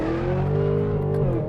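A Chevrolet Camaro ZL1 accelerates hard through a corner. Its engine note is a loud, sustained drone that climbs steadily in pitch, close and continuous without pause.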